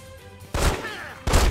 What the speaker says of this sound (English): Where they shooting at you at?